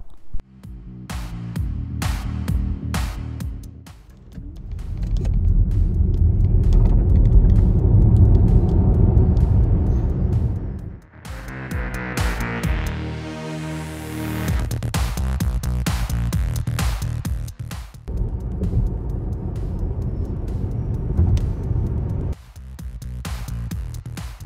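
An all-wheel-drive Skoda Enyaq iV 80X electric SUV accelerates hard, a steady rising whine and road rumble building over several seconds, easing, then surging again with tyre and wind noise.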